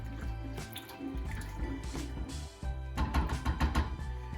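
A spoon stirs New England clam chowder in a pot, giving thick wet sloshing and squelching with soft knocks against the sides, busier in the last second and a half.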